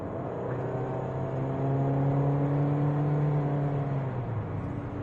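Hyundai i30 2010 automatic with a 2.0 engine accelerating from cruise, its steady droning tone rising and swelling in loudness before easing off near the end, heard from inside the car with no talking.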